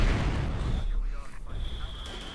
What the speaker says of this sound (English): But this mortar's starting to do some damage